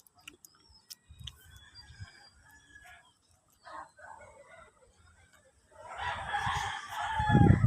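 Chickens clucking around outdoor coops with a rooster crowing loudly and close near the end, over faint background ticking and rustling.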